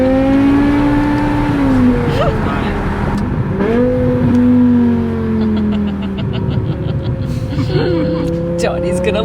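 A BMW M6 with a V10 engine and F1-style exhaust revs hard and climbs through gears, each shift marked by a sharp break before the loud, rising tone resumes. People talk over the engine throughout.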